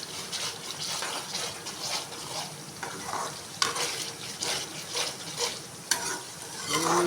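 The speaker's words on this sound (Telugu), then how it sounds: "ఇదిగోండి అల్లం వెల్లుల్లిపాయ పేస్ట్ వేసి ఇంకా ఆయిల్లోనే వేపుతున్నానండి." Ginger garlic paste frying in leftover oil from fried chicken, a steady loud sizzle with repeated scraping stir strokes throughout, close and without talk.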